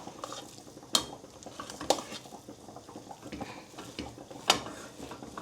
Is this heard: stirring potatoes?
yes